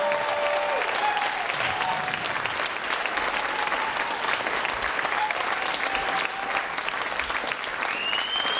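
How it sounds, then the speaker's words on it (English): Audience applause at a progressive movement event, dense continuous clapping throughout, fairly distant and even. "Can we just one more round of applause for Nina?"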